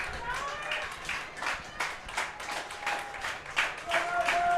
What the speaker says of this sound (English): As you can hear the crowd starting to get to their feet, as Varga's going to step out, and wisely so